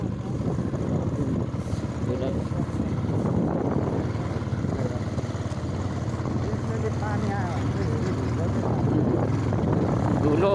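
A tractor engine drones steadily at a middle distance with a rough, throbbing low rumble that holds for the whole stretch, while people talk over it.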